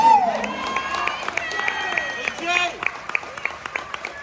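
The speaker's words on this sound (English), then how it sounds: "We can applaud for that." Wedding guests clap and cheer in a room, scattered claps and voices under a speaker's talk, moderate and fairly close, with a brief louder burst of crowd noise midway.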